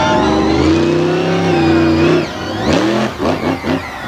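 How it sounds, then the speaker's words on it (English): A monster truck engine roars and revs loudly up close at a monster truck show, its pitch climbing and falling, then dropping into choppy bursts of throttle. "Love the sound of this truck."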